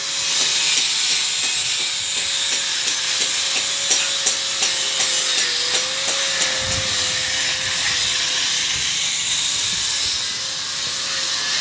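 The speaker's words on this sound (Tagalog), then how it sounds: "bali pinapabaping ko muna kay Ariel, matanggal yung pintura at saka yung mga damage na kalawang" Abrasive sanding rasps steadily against an old painted metal grill to strip paint and rust, a loud, continuous hissing scrape with rhythmic strokes and a steady motor whine underneath.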